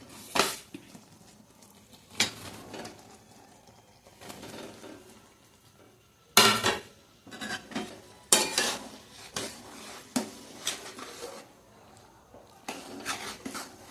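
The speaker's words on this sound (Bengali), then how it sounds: "এবার একটু ভালো করে নেড়ে নিচ্ছি যেন গুড়গুলো এর মধ্যে ঢুকে পড়ে" Jaggery and jujube plums being stirred in a pan, sharp intermittent clinks and scrapes of a utensil against metal with soft sizzling between, close by, and faint bird calls in the background.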